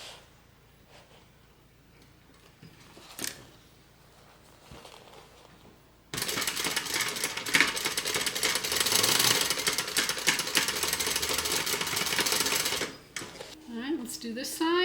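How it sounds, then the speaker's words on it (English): A sewing machine runs a continuous stitching burst along the flap of an asymmetrical handbag, loud and close for several seconds after quieter handling noises, then stops with a few clicks. "I'm just going to start and stop stitching right at those points"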